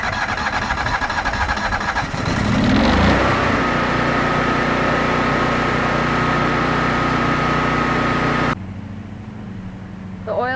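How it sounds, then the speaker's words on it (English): A Kohler 20RES standby generator engine starting and running, with a surge as it fires up, then a steady loud close drone at even speed before the sound drops sharply near the end. "Start the generator by pressing the run button on the controller."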